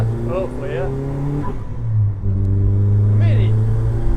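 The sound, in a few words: rebuilt Z20LET engine revving in a van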